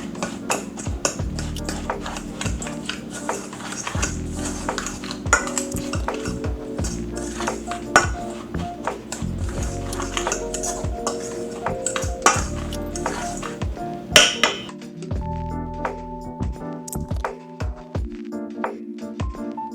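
A spoon stirs Parmesan breadcrumb mixture with parsley in a bowl, giving a continuous run of close clinks and scrapes against the bowl that slow to sparser taps toward the end.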